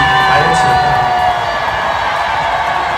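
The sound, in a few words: concert audience cheering and applauding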